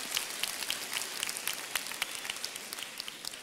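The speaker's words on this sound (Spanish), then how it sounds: "un aplauso a los hombres que hacen algo" Applause from a church congregation, scattered individual claps merging into a steady, crisp patter that continues for a few seconds at moderate loudness, with no one speaking over it.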